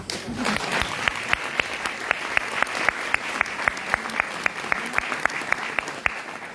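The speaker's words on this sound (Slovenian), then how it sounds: "Dajmo in tak spontan aplavz navdušenja." Film festival audience applauding at an awards ceremony for the best human rights film, a sustained wash of many hands with a steady, rhythmic clap standing out near the front.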